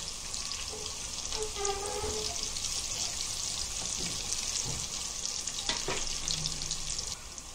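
Crushed garlic sizzles steadily in hot oil in a pan while salt goes in for a Kokani leafy-vegetable bhaji, a constant close frying hiss with a few soft stirring clinks and no talking.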